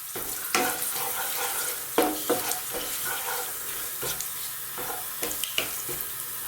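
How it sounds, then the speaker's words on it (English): Cumin seeds splutter and sizzle in hot oil in a pan, a steady bed of frying hiss broken by irregular sharp pops and crackles, close and fairly loud. "we're just going to let them do their thing in the oil just for a few seconds. They'll splutter a little bit"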